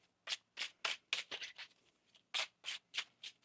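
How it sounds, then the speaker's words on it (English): A tarot card deck being shuffled by hand, a quick series of about eleven crisp riffling bursts in two runs separated by a short pause, close and clear against a quiet background. "One more shuffle."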